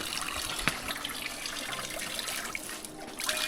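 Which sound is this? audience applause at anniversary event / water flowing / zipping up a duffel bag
water flowing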